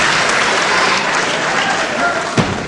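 A crowd at a 1977 UK wrestling match applauds, a dense steady clapping that fills the hall, with a brief louder thump near the end.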